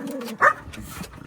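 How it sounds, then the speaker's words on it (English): A dog gives one short bark amid softer whimpering and yips, close by, over a faint background hum. "I'll leave you with some footage of my vicious guard dogs"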